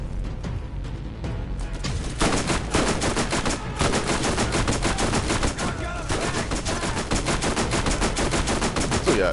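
Rapid, dense pistol gunfire from Borderlands, a video game, cracking continuously at close range for several seconds without pause, loud and sustained with no talk over it.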